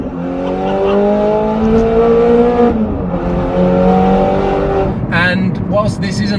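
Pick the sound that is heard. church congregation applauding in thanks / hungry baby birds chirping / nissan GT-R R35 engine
nissan GT-R R35 engine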